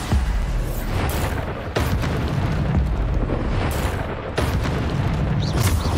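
Bombarda blasting spells in Hogwarts Legacy, several loud, heavy explosions spaced a second or two apart, each a sharp crack with a deep rumbling tail over constant game noise.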